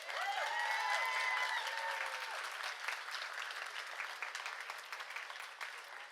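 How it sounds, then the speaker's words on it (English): Graduates at the SUNY Schenectady commencement ceremony applaud together, a steady, dense roar of clapping with a few faint whoops early on, sustained throughout and gradually easing slightly toward the end. "Give yourselves a big round of applause."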